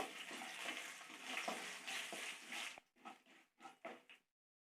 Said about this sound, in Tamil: ஸ்லோலியே வச்சு நல்லா பொரியட்டும்.